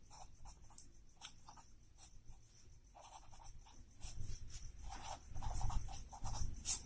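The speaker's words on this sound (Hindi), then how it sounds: "चलिए एक और लिख देते हैं गॉस का प्रमेय इधर" A pen writes on paper in a physics exam copy with bursts of close scratchy strokes and pauses between them. The writing grows louder and denser toward the end, and no one talks.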